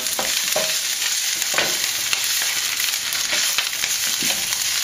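Potatoes frying in oil in a home kitchen pan, stirred and tossed, giving a steady close sizzle broken by repeated scraping clatters as the pieces are turned, with no talk.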